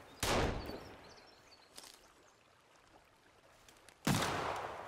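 Gunshots in Sons of the Forest, two sharp, loud cracks about four seconds apart, each with a short fading tail. A faint softer pop falls between them over quiet forest ambience.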